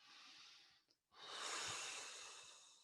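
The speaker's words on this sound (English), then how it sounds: "And take myself, a breath. Take a breath." A deep breath, first a long exhale, then a short pause, then a slow, loud, airy inhale close to the mic, with no speech.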